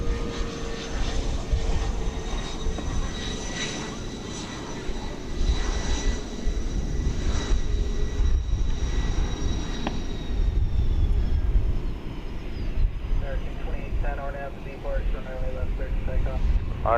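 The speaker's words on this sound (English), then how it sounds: "We've got here a NetJets Bombardier Challenger 650 coming in from Las Vegas." NetJets Bombardier Challenger 650 jet landing at DFW Airport after arriving from Las Vegas, a sustained, loud engine roar with a high whine that shifts and fades, under intermittent talk.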